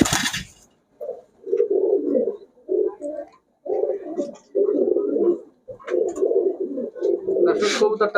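Orange Chila and Chuithal Chila pigeons, a breeding pair in a shop, coo repeatedly in close, throaty bursts, one after another with short gaps, loud and near.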